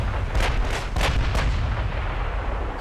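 A 17-inch naval gun salvo in the Ultimate Admiral Dreadnoughts game, with four quick booming shots in the first second and a half, then a rumbling low tail, loud and close.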